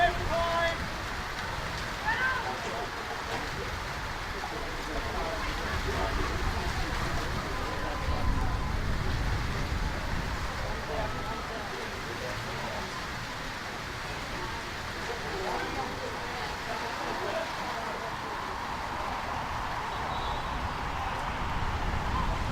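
Heavy rain and wind at a women's football match, a steady broadband hiss of rainfall with gusty rumble throughout, under a commentator talking.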